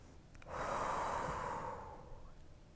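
One long, full inhale during a beginners' yoga flow, a close, airy breath that swells and then slowly tapers off in a quiet room.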